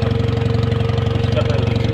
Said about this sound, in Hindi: बोट स्टार्ट हो गई है और हम कश्ती बोट पर सैर कर रहे हैं